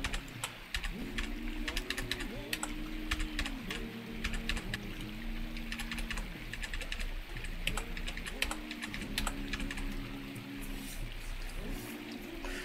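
Keys pressed on a computer keyboard while playing Dwarf Fortress: quick, light clicks come in irregular bursts, close and fairly quiet, over soft, repeating tones in the background.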